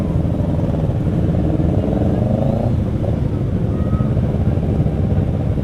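Idling cars and motorcycles packed in a jammed queue for the ferry from Sabang to Banda Aceh, a steady low engine rumble with occasional revs, close and continuous, with faint voices in the background.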